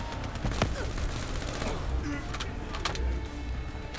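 Scattered gunfire in Call of Duty: Black Ops III crackles as distant shots through a dense, noisy battlefield din, with a few sharper reports standing out.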